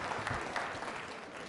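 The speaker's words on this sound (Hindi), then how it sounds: "तालियां जोरों से बजाइए मैम के लिए" An audience at a quiz show for trainee state service officers claps in a brief, dense burst of steady applause at a constant level.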